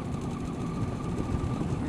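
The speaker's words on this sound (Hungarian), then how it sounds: "Egy kamion valószínűleg." A truck rumbles past close by with a low, steady engine drone and churning noise, heard from beside an MZ ETZ 250 motorcycle.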